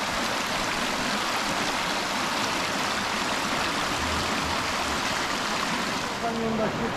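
Clear mountain stream water emerging straight from the mountainside rushes and gurgles in a steady, dense wash that stays constant and fairly close throughout.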